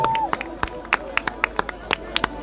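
Scattered, uneven hand claps from a small outdoor crowd at a running race award ceremony, sharp individual claps spread over a background of chatter and voices.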